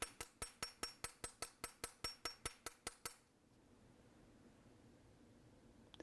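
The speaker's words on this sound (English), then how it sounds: "So you just want to gently just like start tapping it." A hammer taps wire for earwires in a fast, even series of about fourteen sharp metallic strikes, close and clear, then stops, leaving quiet room noise.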